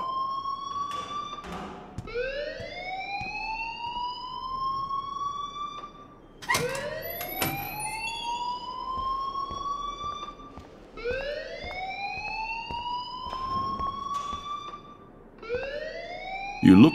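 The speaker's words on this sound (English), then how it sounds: "please turn off that alarm since that's your" Rising-and-falling electronic school alarm from the game Life is Strange, sweeping upward in repeated cycles about every four to five seconds, loud and steady with faint voices underneath.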